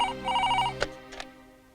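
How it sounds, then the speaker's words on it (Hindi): A telephone in a Hindi-dubbed movie rings in two quick electronic bursts, then cuts off into a couple of faint clicks. It is moderately loud and heard alone, with no talking. "आपके लिए फोन।"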